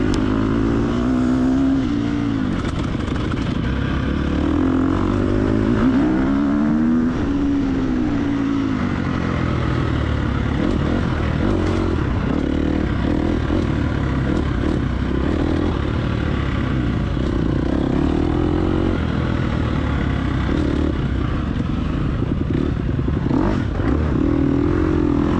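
Dirt bike engines in a TORCS hare scramble off-road race, a steady buzzing motor drone that rises and falls as the rider revs through the course, loud and continuous for the whole stretch with no talk.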